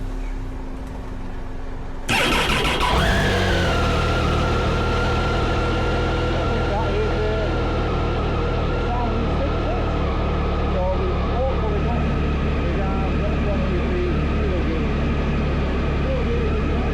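Triumph Tiger motorcycle engine cranking over and firing up after a starter motor replacement, then settling into a steady, loud idle that runs on continuously to the end.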